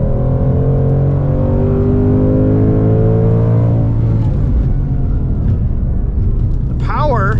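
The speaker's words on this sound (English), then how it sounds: "Engine sounds a little bit like the GT350's flat plane crank motor, higher revs, but not quite the same" Ford Mustang Dark Horse V8 with a Tremec manual, revving hard on a race track, heard from inside as a loud rising engine drone that climbs in pitch, then drops to a rougher roar under a steady talking voice.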